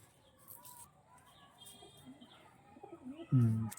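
Kalanka pigeons cooing, soft scattered coos and faint rustling at low level, then a louder, deeper coo near the end.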